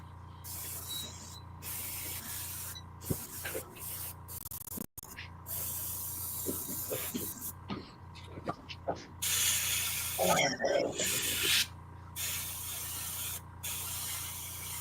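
Spray paint hisses out in several separate bursts of a few seconds each, with overspray drifting. Small clicks and handling knocks fall between the sprays, and everything sounds close and fairly quiet.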